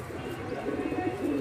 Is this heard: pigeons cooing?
yes